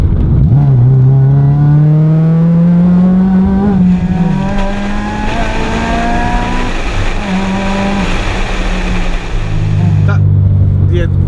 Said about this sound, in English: It picks up the speed like that. The throttle response is great.